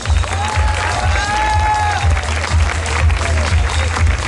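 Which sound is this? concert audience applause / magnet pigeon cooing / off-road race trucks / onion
concert audience applause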